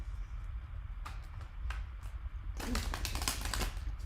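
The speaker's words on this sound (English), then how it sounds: "Just give your deck a shuffle here." Quick riffling shuffles of a tarot deck, a few short bursts then a denser run of crisp flutters, close and fairly soft over a low background hum.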